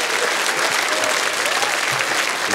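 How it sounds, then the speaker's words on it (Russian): Studio audience at a comedy show bursts into dense, sustained applause, loud and continuous with no voices over it. "несмолкаемые аплодисменты зала"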